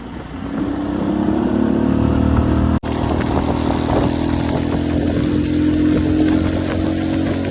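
A motorcycle cruises along a road at night, its engine droning loud and steady up close with wind rush, broken by one very brief dropout before the steady run carries on.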